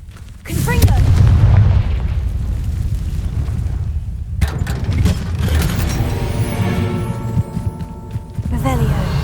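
Confringo curse explosions in the Hogwarts Legacy video game: a loud booming blast, then rumbling impacts and crackling debris, with a second sharp burst near the end, all close and heavy.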